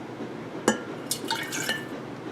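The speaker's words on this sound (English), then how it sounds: "I'm going to pour just some clear water for now" Water trickles and splashes into a glass jar with a bright glassy clink at the start, a short close pour in a quiet room.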